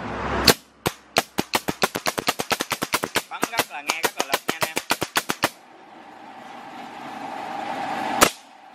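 A MAX CN630 pallet coil nail gun fires a rapid series of around thirty sharp, loud cracks in quick rhythm, then an air hiss and one final shot, close up.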